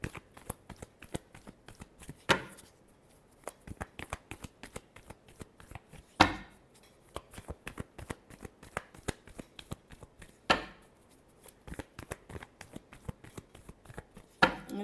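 Tarot cards shuffled by hand in repeated crisp riffling bursts with soft slaps and pauses between, close and fairly quiet, no voices.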